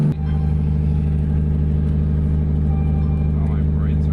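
Engine of a 2JZ-swapped Nissan S13 on a drive, a loud, steady low drone with a continuous rumble that holds even throughout, heard from inside the car.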